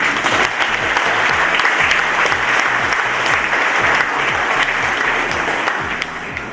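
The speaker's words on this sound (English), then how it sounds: "A huge round of applause for all of you." At an award ceremony, a large audience gives a loud, continuous round of applause, dense clapping sustained for several seconds over a faint rhythmic music beat, tapering slightly at the end.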